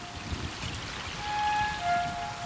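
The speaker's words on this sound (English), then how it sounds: "the rainy season descends on Copan" Steady rain falls during the rainy season at Copan, a broad, even hiss of drops with gentle swells in loudness and no voices.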